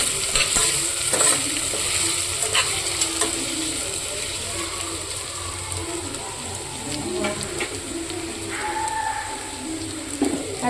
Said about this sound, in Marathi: त्याला पण आपण मस्त तेलामध्ये असं फ्राय करून घ्यायचं आहे